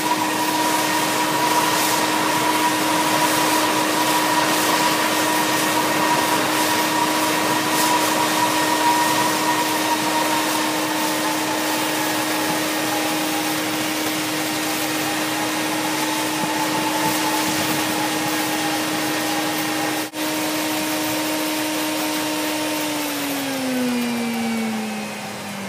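A waste motor oil burner used for melting metal roars steadily with a droning tonal hum for a long stretch, then winds down as the fuel is shut off and its pitch sinks away.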